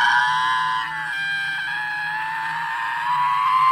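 Car driving through a tunnel while occupants scream and yell together, steady high-pitched sustained voices over a low engine and road hum, close and loud.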